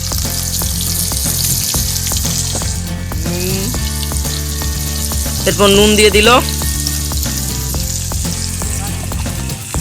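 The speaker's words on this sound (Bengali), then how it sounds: "এরপর ভাজা হবে আলুটা" Potatoes with turmeric and salt fry steadily in a pan over a clay village stove, a continuous close sizzle with stirring scrapes, under a voice speaking briefly.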